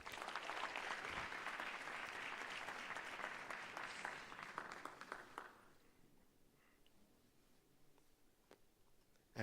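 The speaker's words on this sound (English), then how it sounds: "Another round of applause for Mpumelelo Msipa." Many hands clap at a learner leadership summit, a dense round of applause that holds steady for several seconds, then thins to scattered claps and fades into quiet room tone.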